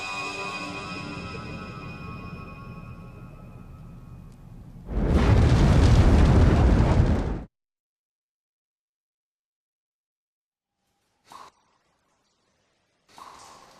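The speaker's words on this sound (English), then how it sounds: "Someone must have set their house on fire!" A house burning in Star Ocean: The Last Hope: tonal game music gives way to a loud, roaring rush of fire lasting a couple of seconds, then silence broken by two short, fainter bursts.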